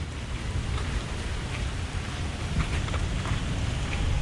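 Steady monsoon downpour in Goa, India, a dense, continuous hiss of heavy rain close by with a low rumble underneath and no voices.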